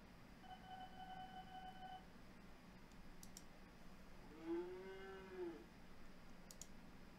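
Cattle lowing in the OpenTTD transport simulation game, a single drawn-out moo heard at moderate distance over quiet background hum, with a few faint clicks around it and no talking.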